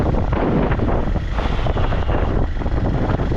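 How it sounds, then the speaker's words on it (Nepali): Strong wind buffeting the microphone while riding an Xpulse Pro motorcycle along an off-road track, a continuous loud rumbling roar with no voices. "सिरिरिरिरिरिरिरि हावा चलिरह"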